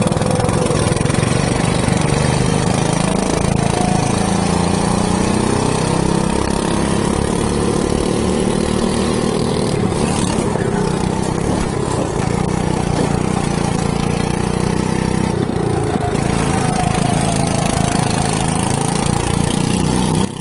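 Racing go-kart engine at a league night track, a steady loud buzzing drone with pitch sweeping up and down through the whole stretch, close and continuous with no voices.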